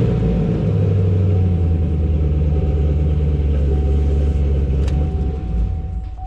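A 5th gen Chevrolet Camaro SS V8 idles close by with a loud, steady, deep rumble that holds throughout, easing slightly at the very end.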